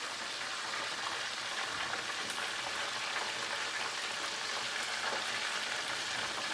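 Chicken deep frying in hot oil gives a steady, dense sizzle and crackle that holds evenly the whole way through, with no voices.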